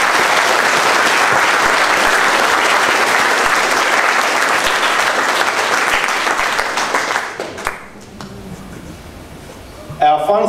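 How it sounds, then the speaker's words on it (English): A school audience at a Year 11 awards ceremony gives dense, sustained hall applause for about seven seconds. It then fades to scattered claps and quiet room noise, ending in a brief rustle. "Can we just clap for her?"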